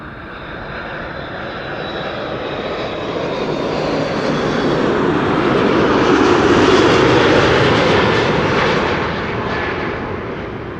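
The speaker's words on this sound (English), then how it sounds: "This is Delta Airlines Flight 74 arriving from Atlanta, Georgia." A Delta Air Lines airliner arriving at Amsterdam on runway 06 gives a loud, continuous engine roar that swells over several seconds as it nears, then eases slightly, with no voices.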